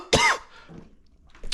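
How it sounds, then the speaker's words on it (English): A single sharp cough bursts out up close, followed by a quiet pause and a softer throaty sound at the end. "I had a little kind of coughing fit."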